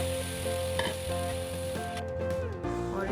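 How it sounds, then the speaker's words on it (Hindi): Onion paste, 500 grams ground in a mixer, sizzles and fries steadily in hot oil on a medium-high flame while being stirred for a Bihari chicken masala, a continuous close crackle with no talking. "इसमें 500 ग्राम प्याज का पेस्ट डालते हैं।"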